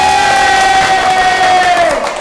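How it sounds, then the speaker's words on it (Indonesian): A studio crowd at a comedy podcast taping cheers and claps, with whoops and a sustained tonal shout riding over the noise for about two seconds, no clear speech. "tepuk tangan dulu dong."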